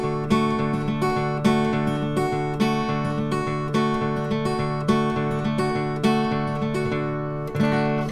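A fingerstyle guitar is played with Travis picking at full speed, clear plucked notes over a steady alternating bass pulse in a repeating chord pattern, close and even, with no talking.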